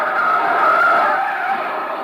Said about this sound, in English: Jam on the brakes.